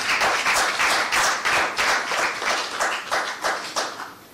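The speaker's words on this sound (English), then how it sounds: "I request that we give a round of applause" An audience at a youth green-jobs forum gives a round of applause, loud rhythmic clapping that swells in waves and tapers off near the end, with no talk over it.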